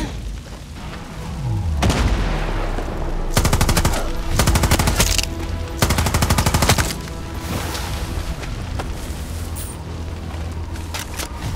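Sustained machine gun fire in the video game Far Cry 6, loud rapid bursts with long continuous stretches and short pauses, mixed with booms and gunfire effects, with no talking.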